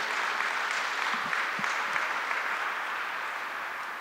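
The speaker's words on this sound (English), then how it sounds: "round of applause again" An audience at a Filipino Heritage Month event in Winnipeg applauds after a song, a dense, sustained round of clapping that slowly eases off near the end.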